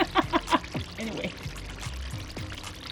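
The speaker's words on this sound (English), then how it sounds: "Pouring the oil." Homemade coconut oil being poured, a soft, close trickle with a few brief splashy bursts early on, then a thin steady dribble that fades toward the end.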